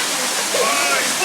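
A waterfall pours steadily in a secluded swimming spot where a family is bathing, giving a continuous broadband hiss and splash that stays close and even throughout the brief moment.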